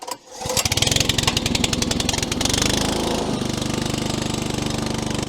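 A motorised muck truck with a choke-started petrol engine catches after a brief pull, then runs loud and steady with a rough, chugging idle close by, no voices.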